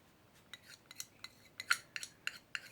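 A stick scrapes around the inside of a small cup while paint is mixed. About ten short, quiet scrapes and clicks come in an irregular rhythm, close up, with no talking.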